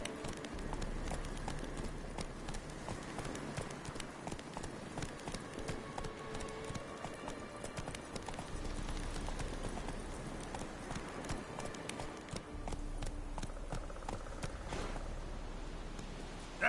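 Geralt's horse Roach galloping in The Witcher 3: Wild Hunt, hooves beating a steady rapid clip-clop rhythm throughout, fairly faint and mixed with game ambience.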